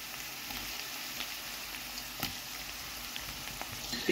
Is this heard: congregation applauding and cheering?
no